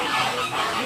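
Flamingos at a lake in Singapore's Jurong Bird Park give a dense chorus of nasal, goose-like honks and calls, overlapping and continuous at moderate loudness.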